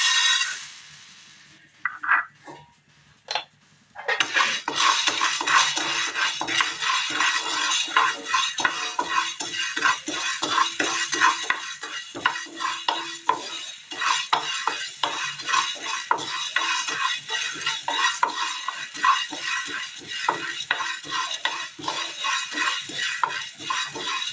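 Green gram tossed into a pan and stirred while dry-roasting, a steady loud scraping and rattling of grains and spoon against metal that runs continuously after a brief gap at the start.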